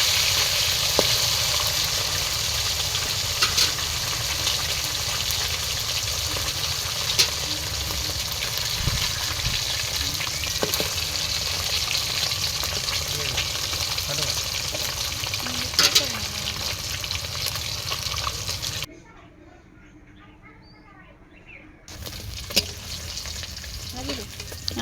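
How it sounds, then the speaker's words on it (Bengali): Large fish fry in a pan of oil on an outdoor stove, a steady close crackling sizzle with occasional stirring and turning, a short hush near the end before the sizzle resumes, and faint talk in the background. "এই যে দেখুন মাছগুলো লাল লাল করে ভাজা হয়ে গেছে"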